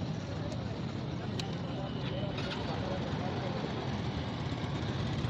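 A used 70cc or 125cc Honda motorcycle with self start idles at a bike market in Karachi. Its engine gives a steady, even hum with no break, fairly quiet and close, under a wash of market noise.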